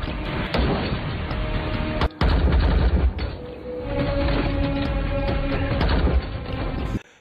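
Gunfire and explosions from an action film battle as a lone fighter storms the guards of a drug cartel's compound: dense, loud bursts of shots and booms run almost continuously, with a brief sharp break near the middle.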